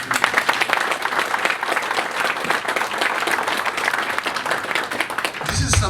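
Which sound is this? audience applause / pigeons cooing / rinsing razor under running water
audience applause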